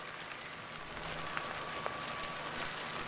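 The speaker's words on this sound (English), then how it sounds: "I don't know if you can hear that. That's freezing rain." Freezing rain and ice pellets pelting a car roof outdoors, a dense, steady hiss of tiny hard impacts with occasional sharper ticks, close and continuous throughout.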